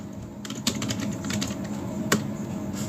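Clicky keystrokes on a computer keyboard, typed in a quick irregular run of light taps with a couple of sharper presses, close and fairly quiet in a calm room with no voices.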